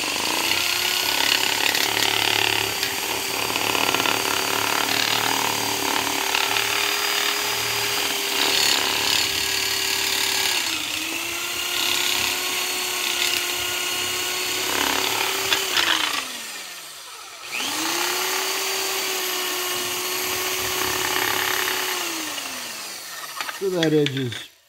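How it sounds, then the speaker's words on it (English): A power drill whirs loudly up close in three long runs while installing cam bearings in a Pontiac 400 engine block, its pitch sagging as it winds down between short pauses, with voices talking over it. "And then we're going to hook up the drill."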